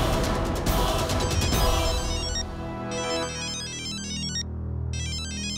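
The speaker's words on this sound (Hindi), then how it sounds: "लो, नीति का फोन।" A mobile phone ringtone plays loudly and close by, a bright repeating electronic melody that keeps going through the whole stretch with no voices over it.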